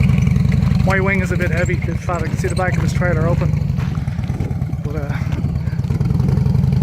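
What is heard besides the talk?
Harley motorcycle engine driving, towing a trailer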